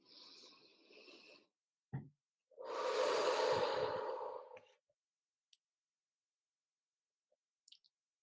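A guided group healing session in which people breathe audibly, soft inhales and exhales heard up close in a quiet room, one longer breath in the middle, then near silence with a few faint clicks.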